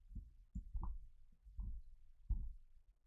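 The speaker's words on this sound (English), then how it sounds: "bring back the heartbeat, bro." Heartbeat sound effect: soft, low, muffled thumps in an irregular pulse, faint and alone.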